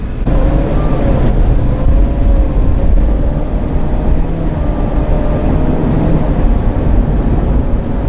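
The supercharged LT4 V8 of a C7 Corvette Z06 idles in a steady, dense low rumble with a faint blower whine, loud and close, with no talk.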